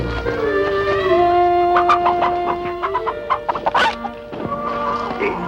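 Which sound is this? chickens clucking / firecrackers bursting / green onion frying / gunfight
chickens clucking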